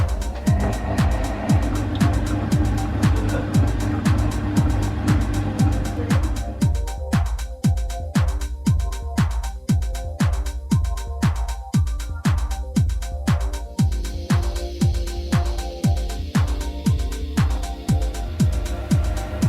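A Monsieur Cuisine Plus food processor runs at low speed mixing yeast into warm milk, a steady motor hum broken by rapid, evenly spaced rhythmic thumps from the turning blade, close and loud throughout.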